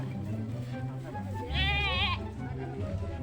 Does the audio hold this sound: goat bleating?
yes